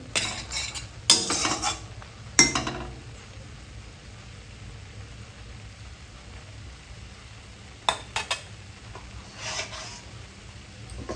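Spice masala is being cooked down in a pot for an oil-free chicken dish. Occasional sharp metal clatters of a spoon against the pot stand out over a faint, quiet background.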